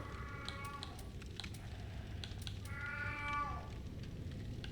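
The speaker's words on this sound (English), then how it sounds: "She's only meowing continuously." An old cat meows faintly in the background, two drawn-out meows over a low steady hum with scattered game-like clicks.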